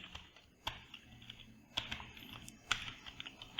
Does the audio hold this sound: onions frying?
no